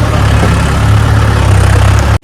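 A Mahindra tractor engine running, a loud steady low rumble held close and unbroken for about two seconds before cutting off abruptly.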